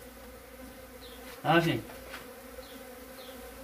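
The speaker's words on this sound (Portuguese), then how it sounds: "Você vê que a abelha já está entrando." Mandaçaia-da-caatinga stingless bees buzzing around an opened hive box, a faint steady hum up close, with a brief spoken phrase midway.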